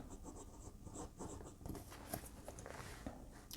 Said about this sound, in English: Now you'll notice the pen's writing well